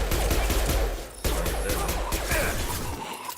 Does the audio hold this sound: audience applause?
no